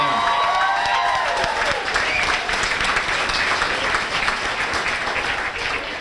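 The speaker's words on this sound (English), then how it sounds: "How about a nice round of applause for" Crowd applause and cheering for a third-place Missouri Class 2 state wrestling team at a high school sports banquet in Ste. Genevieve, steady and loud throughout with a few voices and whoops mixed in.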